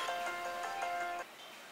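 A mobile phone rings with a repeating electronic tone in short pulses for about a second, then stops, leaving quiet room tone.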